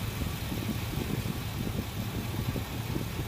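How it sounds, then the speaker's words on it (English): A car engine idles steadily with a low, even rumble and slight mechanical flutter during a fuel pressure check, continuous and close with no talking. "Now with the engine idling"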